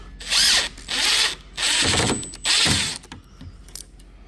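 A power drill whirs in four short bursts, each revving up and stopping as it drives screws into a cabinet, close and loud, followed by faint clicks.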